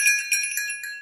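Small bells on a decorative metal tree from Dahab, Egypt jingle briefly and brightly, a close, light tinkling with a few quick shakes and no talking.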